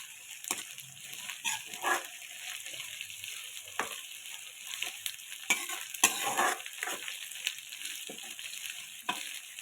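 Ginger garlic paste frying in oil in a pan for an egg, drumstick and potato curry, with a soft steady sizzle and repeated scraping stirs of a spoon against the pan, close and moderate in level.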